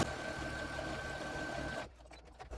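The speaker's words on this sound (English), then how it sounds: "I'm gonna line that up and sew that down" A sewing machine runs steadily while stitching a strip of scrap quilt fabric down, with a constant motor whir for most of the moment before it stops abruptly, leaving faint handling noises.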